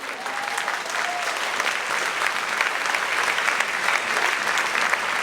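A church congregation breaks into steady, dense applause that fills the space, sustained and even throughout, with faint voices mixed into the clapping.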